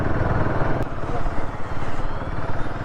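A motorcycle on a long ride to a hill fort idles up close. It makes a continuous low, rumbling putter that stays loud and rough and never revs up.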